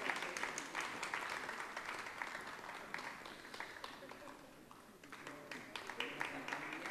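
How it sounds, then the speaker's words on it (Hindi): Moderate audience clapping welcoming a guest at a book launch event, a steady patter of hands that stays fairly quiet and dips briefly before picking up again. "जोरदार तालियों से आप इस्तकबाल करें।"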